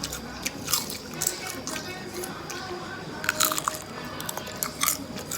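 Crispy fried jackfruit leaves are bitten and chewed with repeated close, dry crunches in irregular bursts, with soft mouth noises between bites.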